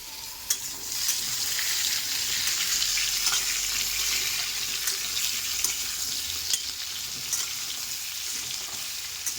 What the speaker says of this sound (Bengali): এখানে কিন্তু সুন্দর করে ভেজে নেব